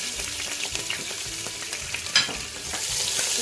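Green chillies and cumin seeds sizzle in melted desi ghee in a pan, a close, even frying hiss with light stirring scrapes and one brief clink.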